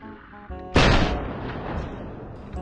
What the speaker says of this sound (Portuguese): Vai falar que errou o tiro, mano.